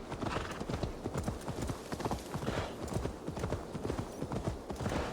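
A horse gallops in the video game Assassin's Creed Valhalla, its hooves clip-clopping in a rapid, continuous rhythm that is loud and close throughout, with no talk over it.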